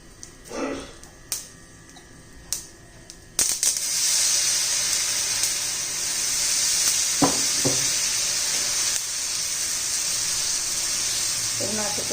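Rava besan chila frying in oil on a pan, with a few light clinks and taps before a loud steady sizzle bursts in and continues, brief utensil knocks showing through the hiss.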